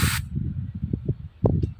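A short, loud burst from a spray can aimed at a bees' nest, followed by scattered bumps, knocks and faint handling sounds near the microphone.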